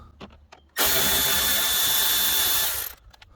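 A power drill spinning out T25 bolts from the bottom plastic shield of a 2008 Volkswagen Jetta, a loud, close whirring burst of about two seconds, framed by soft clicks and handling noises.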